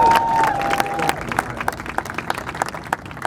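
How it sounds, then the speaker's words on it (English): A street-show crowd at Virginia Beach claps and cheers for two volunteers, with dense, close applause and sharp individual claps that thin out toward the end. "Give these two guys a round of applause."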